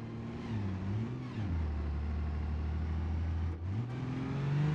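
Rollback tow truck engine in BeamNG coasting in second gear, a steady low drone that dips and rises as revs change, with a brief drop in the middle and a slight climb near the end.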